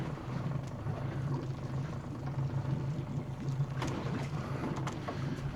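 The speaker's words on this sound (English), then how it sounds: "I want to knock my bloody engine off as well." A fishing boat's engine runs steadily at sea, giving a continuous low droning hum with a faint mechanical rattle that holds at a constant level throughout.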